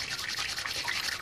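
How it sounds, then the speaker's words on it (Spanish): A plastic ruler rubbed briskly along a sweater sleeve on an arm, giving a steady, close, continuous scratchy hiss with no talking. "Un buzo en el brazo, en este momento lo estoy frotando."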